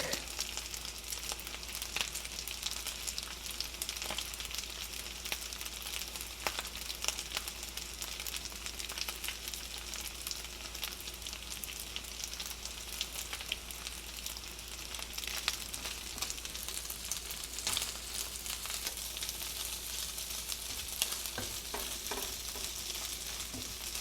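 Chicken fried rice made with rotisserie chicken frying in a pan, a dense, steady sizzle with constant crackle running unbroken and fairly close throughout, no voices.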